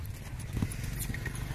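A mare's hooves clip-clop during a ride in a Pakistani village, a short run of soft, close hoof beats under background noise.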